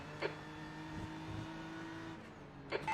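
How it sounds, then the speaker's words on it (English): A race car in a sim racing video game drones past with a steady, faint engine whine, brief sharp blips near the start and end, alone without talk. "There's a faster car approaching."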